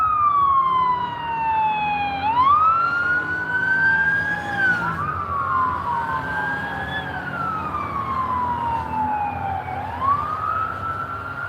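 Emergency sirens wail up and down in Winston-Salem, several overlapping, loud and steady as the vehicles pass nearby over low traffic rumble.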